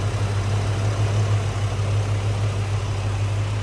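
A stock 1991 Ford Mustang LX convertible engine idles smoothly and steadily, a low, even rumble held close with no revving and no voices.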